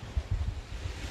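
Sea wind gusts across the microphone on an Andalusian coast, low rumbling buffets in uneven bursts, close and moderately loud, with no voices.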